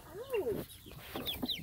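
Chickens cluck and squawk nearby as they are moved on a day when a peacock and 13 chickens are relocated, a few short agitated calls with light voices in the background.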